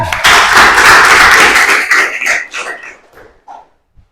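A class of students claps for a classmate's correct answer during an Islamic religious lesson, a dense burst of hand claps that thins into scattered, fading claps within a few seconds.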